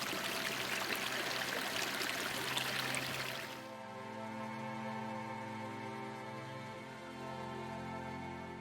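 A flowing mountain stream in the Monges rushes loudly and steadily at first, then drops to a softer, continuous trickle and gurgle close by, with no voices.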